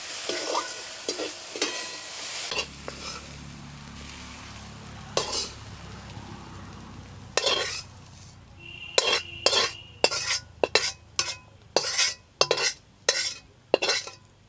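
Ridge gourd peel is stirred and fried in a pan after being boiled in a little water, with a steady soft sizzle under repeated scraping utensil strokes that grow sharper and more rhythmic toward the end.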